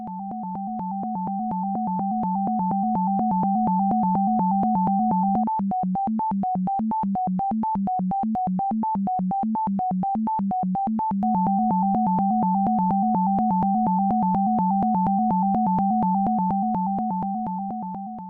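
Steady electronic tone pattern forming an auditory illusion, with a fast repeating high three-note figure over low blue notes, evenly pulsing and sustained for the whole stretch, with no voices.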